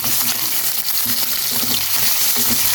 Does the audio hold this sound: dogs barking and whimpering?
no